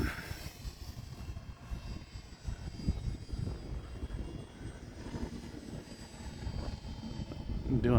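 An E-flite Valiant 1.3m radio-controlled airplane flies at full throttle, its electric motor giving a steady buzzing drone at mid distance that swells slightly toward the end.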